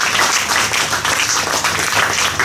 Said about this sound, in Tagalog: Isa pong palakpak sa ating Diyos.